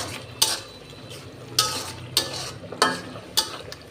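Garlic paste stirred into a fish curry with potato and eggplant in a frying pan: a steady sizzle under sharp, evenly spaced scrapes and clinks of a spoon against the pan, with no voices.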